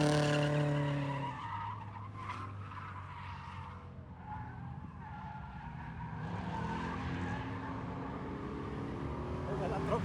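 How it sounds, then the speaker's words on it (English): A car drifting with tires skidding and squealing, a long sustained screech mixed with engine roar that eases slightly and then swells again, with speech also present. "I kept drifting throughout the day"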